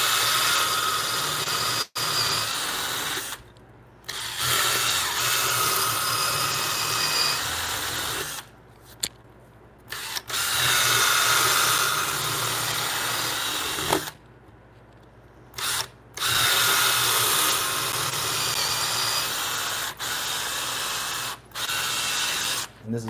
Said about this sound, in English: we need to remove the waste, so we're using a Forstner bit to do so preliminarily